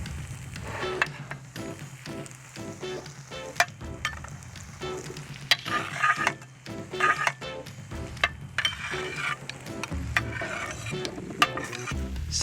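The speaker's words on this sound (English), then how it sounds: "Stir in the vegetables." Grilled vegetables, piquillo peppers and chickpeas stirred into cooked paella rice, with steady sizzling, scraping and occasional clinks of the utensil against the pan, close and without talk.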